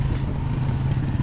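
Motorized tricycle engine running in traffic, with worn-down tires: a steady, close, low rumbling drone with a slight clatter, continuous for the whole moment.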